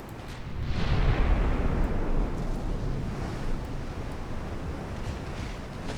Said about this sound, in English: Our 8-inch secondaries are firing as well.